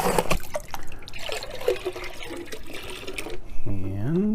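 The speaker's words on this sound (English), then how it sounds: "Last pan. Ooh, splashy, splashy." Creek water splashes and sloshes in a gold pan during panning at a stream terrace, with a voice talking over the first part and a brief burst of vocalizing near the end.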